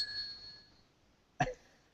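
A small hand bell carried by a presenter rings out faintly, its clear tone fading away, followed after a pause by a short, sharp cough-like burst.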